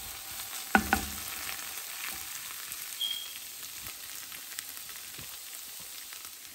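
Chicken fry cooking in a HexClad fry pan, a steady close sizzle of frying with a couple of sharp clatters of a utensil near the start and occasional small pops throughout, no talking.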